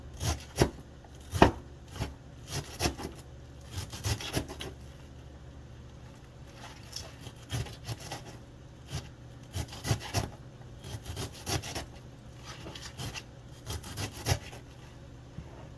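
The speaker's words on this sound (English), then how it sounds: "So I'm gonna just slice this like this. You cut it like that." A knife slices greens such as collard greens on a cutting board, making repeated crisp chopping taps in uneven clusters, close and fairly quiet, with no talk.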